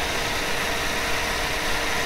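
Steady, close engine idle with a constant broadband whir and hum, no changes in pitch or rhythm, no voices.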